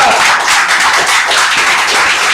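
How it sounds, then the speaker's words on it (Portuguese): Church congregation applauding together during a worship service, dense, loud and continuous clapping from many hands close by. "Aplauda o Senhor Jesus Cristo"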